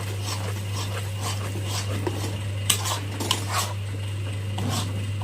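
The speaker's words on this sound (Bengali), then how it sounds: "এখন ভালো মতো নাড়াচাড়া করে নিতে হবে।" Spinach and onion paste stirred in a pan with a metal spoon, giving a few sharp scrapes and clinks over a steady low hum, close and fairly loud for about five seconds.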